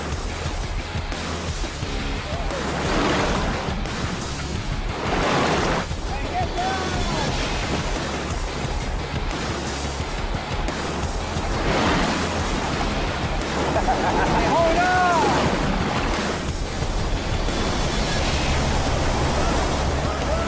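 Rapids rush through a deep river gorge, a loud, continuous broadband roar of churning water with surging swells, heard up close over steady low wind rumble.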